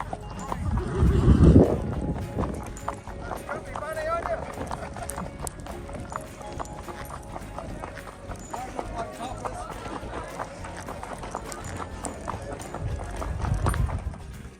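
Horse hooves clip-clop at a steady walking rhythm, mixed with ambient crowd noise and a louder rumble near the start and end.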